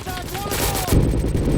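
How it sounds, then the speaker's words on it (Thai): Gunfire in Roblox RECOIL from a pistol converted into a machine gun, a short burst of rapid shots that grows heavier and louder partway through, with faint game effects underneath. "สามารถเอาปืนพกเปลี่ยนเป็นปืนกลได้ด้วย"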